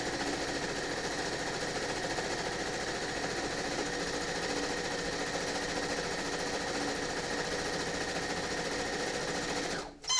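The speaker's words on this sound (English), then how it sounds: "This is what takes the most amount of time for the steps, in my opinion, is sewing the strips together." A sewing machine runs continuously at steady speed, stitching quilt strips together with a dense, rapid mechanical whir and rattle that stops abruptly at the end.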